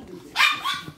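A chihuahua gives a single sharp, high-pitched bark followed by a shorter yip. The sound is close and fairly loud and is heard in a home setting, with faint voices around it.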